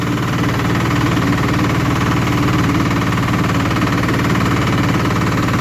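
A loaded farm vehicle rolls slowly across a frozen field in winter, its engine a loud steady chugging drone with a fast even pulse, close and unbroken.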